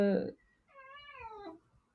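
A house cat gives a single drawn-out meow with a wavering pitch, close and clear, right after a brief burst of a woman's speech in a quiet indoor room.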